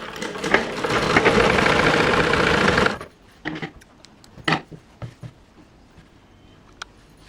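A sewing machine stitches a simple blouse in one continuous, close, whirring run of about three seconds, followed by scattered light clicks and handling knocks in a quiet room.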